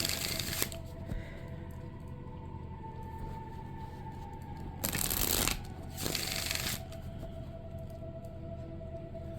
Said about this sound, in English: it's so therapeutic just to be able to shuffle.